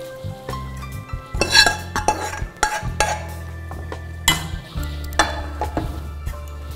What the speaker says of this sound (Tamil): இப்போ வந்து நம்ம பருப்பை வந்துட்டு இதில் ஊற்ற போகிறோம்.